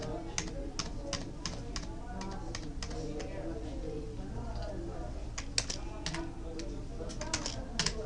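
Computer keyboard keys are pressed in scattered taps and a few sharper clicks while switching between open Windows 7 programs, close and moderately loud, with talking underneath.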